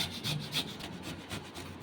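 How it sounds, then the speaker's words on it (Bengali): Raw papaya being grated on a kitchen grater for a Bengali papaya ghonto, giving a rhythmic series of close, dry rasping strokes with no talking. "এবার পেঁপেটাকে একটা গ্রেটারের সাহায্যে এভাবে গ্রেট করে নেব।"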